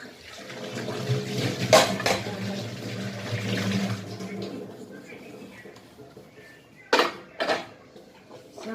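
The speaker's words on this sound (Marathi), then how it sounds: "भांडे घासायचं" Pots and dishes being scrubbed and rinsed in a home kitchen, with clinks and clatters of metal utensils, water splashing, and a few sharp knocks, close by, under occasional talk.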